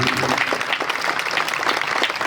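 An audience at a public event claps for a yoga master, a short burst of dense, lively applause from many hands, close and steady throughout with no talking.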